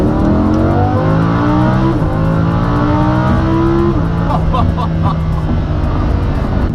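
A Lamborghini Huracan engine revs hard and steadily, its pitch climbing through the gears with a loud, continuous roar and brief shifts between.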